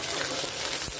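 Oil poured into a wok heated over the fire gives off a steady, dense sizzle that fills the whole moment, close and fairly loud, with a brief lower splash near the end.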